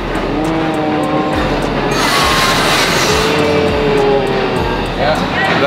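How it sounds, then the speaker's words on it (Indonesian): A Jakarta-Bandung high-speed train pulls into a station platform, its steady loud mechanical roar and rhythmic rumbling clatter filling the whole stretch, with people talking over it. "Ini kereta kita sekarang sudah datang. Nah ini kereta datang yang dari Tegaluar."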